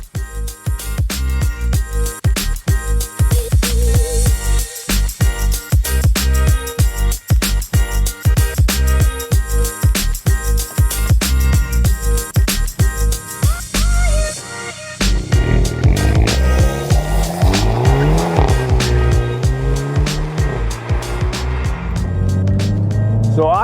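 Hyundai i30N driven hard in its sportiest mode: a loud, continuous engine roar that climbs and drops repeatedly through shifts, with sharp popping crackles throughout and a smoother rising drone near the end.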